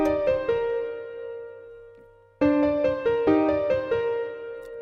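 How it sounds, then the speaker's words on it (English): A dry grand piano (Nexus preset) plays a trap beat melody of repeated bright chords and single notes, pausing briefly midway before the phrase repeats, clear and close with no other sounds. "Now that piano without any effects, which by the way is just a grand piano from Nexus, sounds like this."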